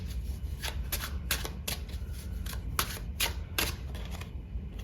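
Tarot cards are shuffled and drawn for a pick-a-card love reading. Crisp, papery riffles and snaps repeat in quick bursts across several seconds, close and clear against a light background hiss.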